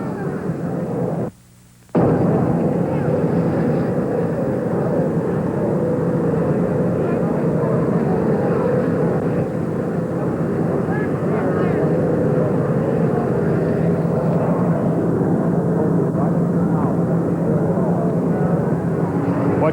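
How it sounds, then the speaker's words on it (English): Loud, steady roar of an Army helicopter that has just landed beside the presidential jet, a dense continuous engine and rotor drone lasting the whole stretch, briefly cut by a moment of silence near the start. "An Army helicopter has just landed. It's making a great deal of noise."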